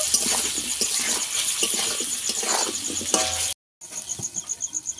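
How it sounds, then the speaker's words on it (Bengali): Pieces of taro (kochu) fry in a pan with turmeric and salt, giving a bright, crackling sizzle with stirring. The sound cuts out briefly and then returns in pulsing bursts. "কচুটাকে একটু ভালো করে ভেজে নেব"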